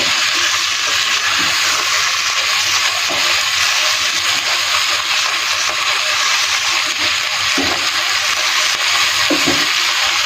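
Minced meat (keema) and peas roasting in a hot pan, dhaba style, give off a steady, close sizzling hiss with a few soft stirring knocks. No one speaks.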